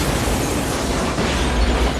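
Miniature-model explosions in the disaster film Dante's Peak, a volcano eruption story: a sustained, loud, dense roaring blast that fills the whole two seconds with rumbling low end and crackling debris, without pause.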